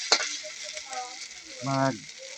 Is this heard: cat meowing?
no